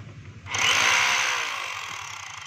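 A DeWalt D25032 rotary hammer is switched on for a test run after a repair: its motor spins up abruptly into a loud, close, high whirring drone that holds and then eases slightly as it runs.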